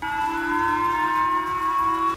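A civil defense siren sounds in Japan after a missile overflight. It holds one loud, steady wailing tone for about two seconds, clear and alone with no voices, then cuts off sharply.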